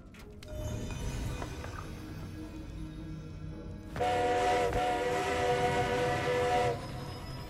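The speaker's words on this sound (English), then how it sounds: "But that's not. That's a train." A train from the Hogwarts Legacy video game rumbles along, then a loud sustained horn or whistle sounds for several seconds before fading back into the steady rail noise, with no talking.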